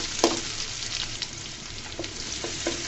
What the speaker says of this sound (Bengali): দেখো বন্ধুরা, পেঁয়াজ রসুনগুলো লাল লাল করে ভেজে নিয়েছি